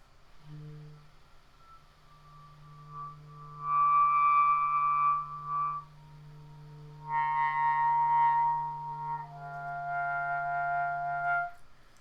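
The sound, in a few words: soft clarinet overtone multiphonic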